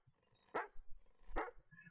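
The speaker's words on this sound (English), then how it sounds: "He starts barking" Two sharp dog barks about a second apart, fairly close, with quiet background between them.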